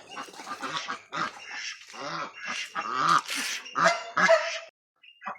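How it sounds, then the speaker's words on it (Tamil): Loud, raucous duck quacks burst out in repeated volleys, close by and overlapping, with brief pauses between the calls. "வாத்து தான் அப்போலேருந்து கத்திட்டு இருக்குது"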